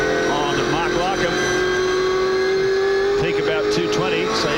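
V8 Supercars race cars in the 1999 championship round at Barbagallo braking hard into a corner, a loud sustained engine drone with a falling pitch under steady commentary.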